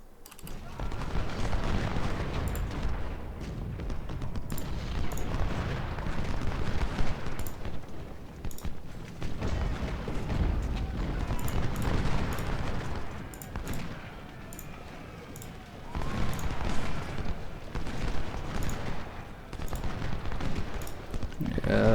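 Cannon and artillery fire in the Civil War strategy game Ultimate General: Civil War, with repeated booming shots and crackling gunfire rolling on continuously over a rumbling battlefield din.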